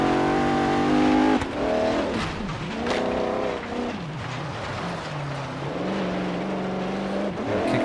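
A 1972 Mercedes-Benz 300 SEL in Forza Horizon 3 revs hard and continuously, its engine note sweeping up and down through gear changes, loud and close with no pauses.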